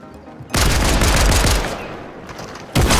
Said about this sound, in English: We're shooting at different people.